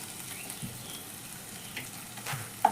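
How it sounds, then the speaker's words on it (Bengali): Garlic and ginger paste fries in a pan with a soft, steady sizzle close by, broken by a few faint stirring scrapes and a small clatter at the end. "এই রসুন আর আদার গন্ধটা 1-2 মিনিট একটু ভেজে নিতে হবে"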